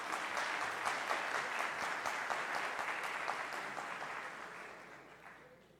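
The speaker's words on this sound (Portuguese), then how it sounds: "Camila Maio, salva de palmas, por gentileza." An audience at an evening nutrition lecture applauds a speaker, a sustained burst of clapping from many hands that gradually fades away toward the end.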